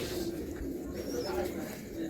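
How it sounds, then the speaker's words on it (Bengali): Pigeons in a breeding loft holding Madrasi and abluk birds keep up a low, continuous cooing murmur, moderately quiet and steady across the whole moment with no pauses. "এখানে আবলুক আছে বা আরও নানান রকম পায়রা রয়েছে"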